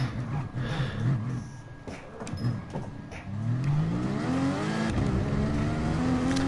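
A Gr.2 race car at Catalunya in Gran Turismo Sport revs and drifts through a corner, its engine note rising and falling with tyre noise, growing louder and steadier in the second half.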